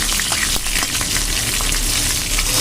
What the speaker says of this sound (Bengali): এবং এই যে কালো জিরে দিয়ে দিচ্ছি, বুঝতেই পারছো। আর কটা কাঁচা লঙ্কা